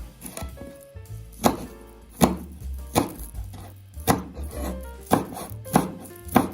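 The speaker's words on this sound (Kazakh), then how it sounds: "Енді көк жуамызды кішкене турап аламыз." A knife chops green onions on a cutting board, about ten sharp, evenly spaced knocks, close and clear, with no talk.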